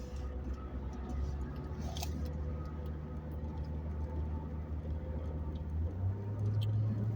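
Car driving on a road, overtaking a truck, heard from inside as a steady low engine and road rumble with faint ticks and rattles, the drone growing slightly louder toward the end.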